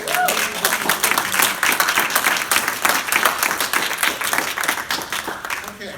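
An audience at a Toastmasters club charter ceremony breaks into sustained applause, dense and loud clapping that holds steady for the full stretch with a faint voice briefly audible near the start.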